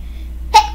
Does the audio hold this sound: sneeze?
yes